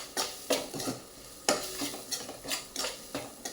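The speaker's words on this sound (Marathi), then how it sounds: "जोपर्यंत कांदा भाजला जात नाही तोपर्यंत थोडं चाळत राहायचं आहे" Onion stirred and roasting in a pan for green pav bhaji, a spoon scraping in repeated quick strokes with light sizzling between them, close and clear.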